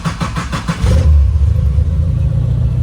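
A car's engine is cranked, catches and settles into a loud, steady idle right up close. Rhythmic starter turning is heard first, then a continuous low running rumble.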